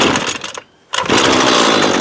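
Husqvarna 128LD 28cc string trimmer engine running loud and buzzy during carburetor adjustment, cutting out for a brief moment of near silence before roaring back up at full revs.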